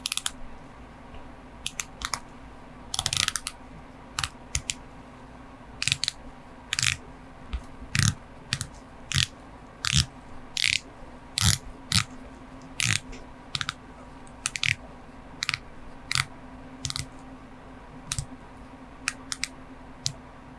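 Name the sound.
Omega Seamaster watch bezel being rotated, ratcheting clicks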